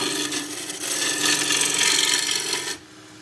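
A wood lathe tool cutting a square spindle blank round, a steady close rasping and scraping of the edge against spinning wood that runs continuously, then stops abruptly near the end.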